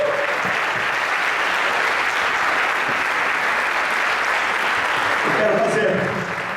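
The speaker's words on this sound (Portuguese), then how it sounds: "Meu querido irmão, pode aplaudir o Senhor Jesus." A church congregation standing on its feet breaks into sustained, even applause, a thick wash of clapping that continues throughout with a brief voice rising near the end.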